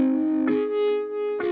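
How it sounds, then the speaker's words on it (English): An Ableton Live flute-pack instrument, the Fender Flutocaster, is run through several guitar effects and plays sustained, distorted, guitar-like notes that change pitch twice, with nothing else heard. "Part of the reason this sounds like a guitar is I'm sending it through a number of guitar effects."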